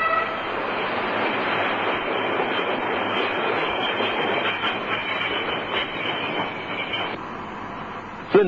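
A narrow gauge work train on City Loop construction works rumbles steadily along the rails with rhythmic clatter and some metallic squeal, fairly close, ending with a brief louder knock.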